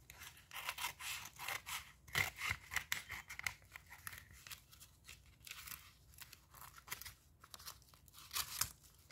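Scissors snip and slice through a package's cardboard and plastic wrapping, a steady run of close, dry crunching and tearing cuts with no talking.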